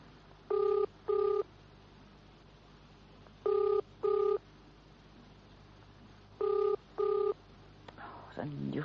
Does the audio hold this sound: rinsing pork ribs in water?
no